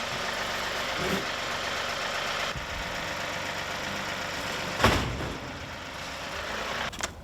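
A farm tractor engine idles and runs steadily at close range, a continuous mid-pitched rumble with a brief louder surge partway through and no talk.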